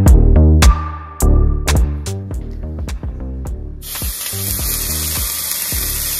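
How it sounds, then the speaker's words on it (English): Rhythmic music with punchy beats plays, then bacon-wrapped stuffed dates begin sizzling loudly in a frying pan over medium heat, a steady bright hiss under the fading music. "You can hear the sizzling."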